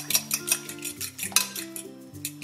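A fork beats egg in a bowl for an omelette, giving rapid, rhythmic metallic clicks and taps against the dish, close and clear with no voices.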